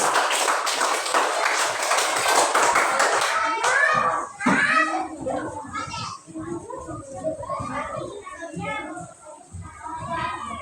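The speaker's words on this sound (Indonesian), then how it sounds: "ya, beri aplaus, ya betul." Children in a classroom burst into rhythmic clapping, loud and dense at first, then the applause breaks off into scattered claps under lively kids' chatter and shouting.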